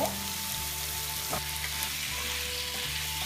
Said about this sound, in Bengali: ঢুকিয়ে কিছুক্ষণ মশলার সাথে ভাজতে হবে